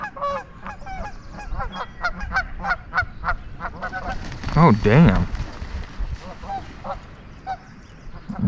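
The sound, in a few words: geese honking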